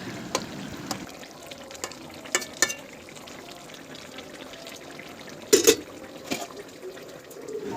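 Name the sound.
fish being stirred and cooked in a pan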